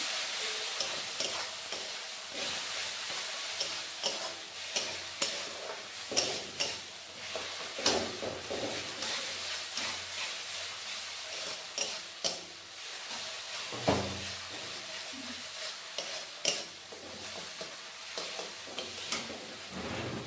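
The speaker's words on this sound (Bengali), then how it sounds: "এবার সমস্ত মশলা একসাথে ভালো করে কষে নেব।" Ground spices with turmeric and cumin powder being stir-fried in a pan for a fish curry, giving a steady low sizzle broken by repeated scraping and stirring knocks, fairly close and moderately quiet, with no talking.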